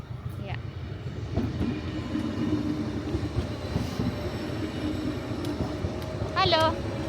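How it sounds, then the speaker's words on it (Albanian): Train approaching and rolling past, a steady low rumble of rail cars with clattering wheels and a brief horn-like tone near the end, fairly close, with talk over it. "Gjithsesi, po na vjen te treni"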